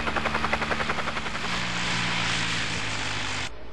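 A helicopter in the video game Resident Evil thumps with rapid rotor beats that blur into a loud, steady engine roar before cutting off sharply near the end.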